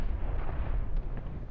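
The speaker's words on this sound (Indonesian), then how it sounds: "ranjau itu meledak." A landmine detonating during a World War II demining operation with Brazilian troops: a dense, rumbling low boom sustained for over a second, with crackling debris texture and no speech.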